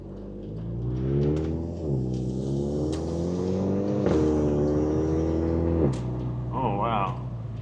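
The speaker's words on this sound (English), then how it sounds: "Car sounds real nice." Jetta GLI engine and exhaust droning steadily at close range, its pitch rising and falling through several rev changes on a sunset drive, with a brief higher whine near the end.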